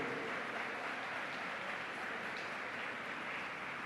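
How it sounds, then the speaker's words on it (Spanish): A church congregation applauding during a sermon, a dense, steady wash of many hands clapping together, loud and unbroken throughout with no distinct individual claps. "de ese aplauso al Señor"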